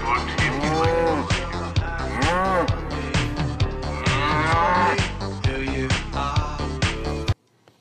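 A herd of cows in an airport moos loudly and often, calls overlapping against a steady rhythmic backing from a WestJet promo, before the sound cuts off abruptly near the end.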